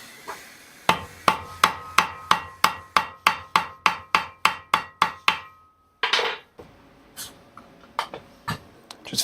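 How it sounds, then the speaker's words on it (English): Rivets hammered in on a Simder SD4050 Pro, a rapid run of about fifteen sharp, evenly spaced metallic hammer blows, close and loud, then a pause and a few more scattered strikes with handling noise. "So now we'll rivet this part on."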